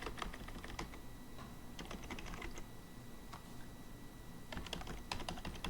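Someone types on a computer keyboard while filling in an online service form, producing faint, quick bursts of keystrokes that pause midway and then resume.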